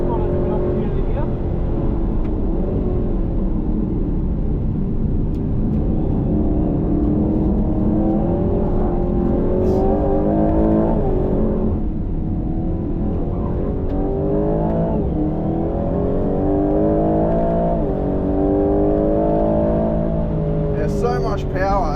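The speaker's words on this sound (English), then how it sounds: "So much power, it's unbelievable the acceleration we've got here." A 2025 Aston Martin Vantage accelerates hard on a race track, its engine note climbing steadily and loudly through the gears, with someone talking over it throughout.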